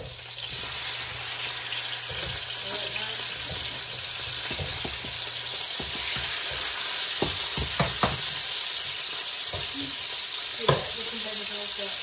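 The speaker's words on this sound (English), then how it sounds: "Let me turn these pork chops over." Pork chops fry in a pan with a constant close sizzle, broken by scattered clinks and scrapes as the meat is turned.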